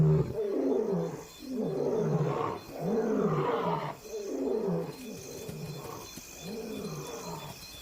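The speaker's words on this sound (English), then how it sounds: "the males patrol their territory. Their roars travel further after dark when the air is cooler" Male lions roar at night while patrolling territory near the Luangwa river, a series of deep, loud grunting roars in rhythmic pulses, repeated several times with brief gaps, no speech over them.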